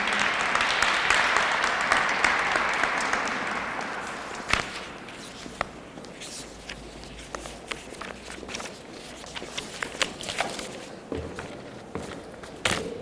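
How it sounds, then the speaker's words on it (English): Applause from a seminar audience rises loudly at the start, then thins into scattered claps and a few sharp knocks over the remaining seconds. "let's give her a better round of applause"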